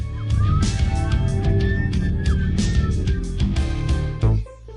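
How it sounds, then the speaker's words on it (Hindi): Cartoon police car siren wails in rising and falling sweeps, loud and continuous over a busy animated soundtrack, cutting off abruptly near the end. "पुलिस की गाड़ी अपना सायरन सक्रिय करती है।"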